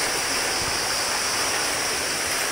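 Loud, constant roar of a rushing river in Isabela, dense and unbroken water noise up close with no voices.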